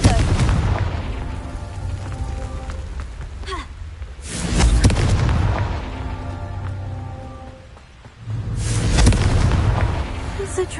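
Confringo blasting spells in Hogwarts Legacy go off as two loud booming explosions a few seconds apart, each with a rumbling tail, over a steady background of game ambience.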